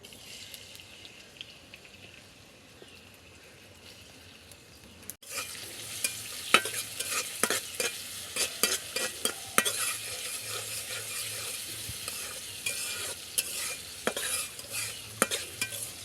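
Chopped onion and green chili hit hot oil in a kadai after a quiet start, then a loud, steady sizzle of frying with repeated clinks and scrapes of stirring.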